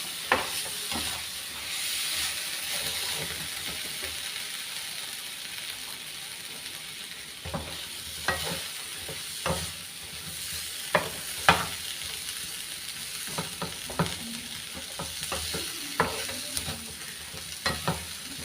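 Boiled green plantain pieces stir-fried in a pan for a Kerala mezhukkupuratti, with a steady sizzle and repeated sharp spatula scrapes and taps that grow busier toward the end, close and clear with no talking.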